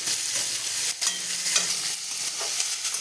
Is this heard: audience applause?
no